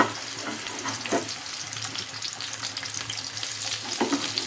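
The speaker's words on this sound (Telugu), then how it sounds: "ముందు నేను మెత్తలు వేయించుకుని పక్కన పెట్టుకుంటాను" Dried fish (mettallu) sizzle and crackle steadily in a hot pan, a close, continuous frying hiss with occasional stirring scrapes.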